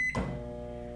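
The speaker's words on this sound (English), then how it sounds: "Into the microwave." A short beep cuts off and a steady low microwave hum follows as chips heat, constant and close.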